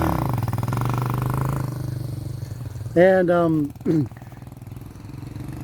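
A motorcycle engine drones steadily at idle, then revs in a couple of sharp rising bursts as the rider pulls a wheelie, with a voice speaking nearby.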